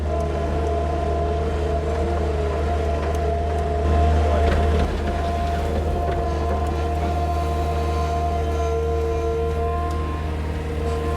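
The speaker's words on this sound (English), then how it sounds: "So I've left the tractor just tick it over." A tractor engine ticks over at a steady idle close by on a farm, a constant low droning hum with even harmonics, briefly swelling once before settling back.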